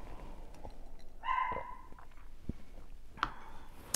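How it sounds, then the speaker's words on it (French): A dog barks indoors, giving a couple of short, fairly faint yaps and yips over a quiet background. "je vais prendre une gorgée le temps que Nessie arrête d'aboyer"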